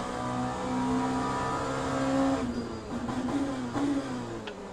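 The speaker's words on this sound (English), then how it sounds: "I just heard an engine being very close in the middle of the hairpin." A race car engine in the racing game Le Mans Ultimate drones loud and close through a hairpin, its pitch rising and falling steadily as the car works through the corner.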